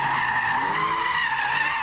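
Tires of a 300-horsepower Porsche 911 squeal in a sustained, fairly loud skid as the rear steps out under a flick of the wheel, steady over nearly two seconds.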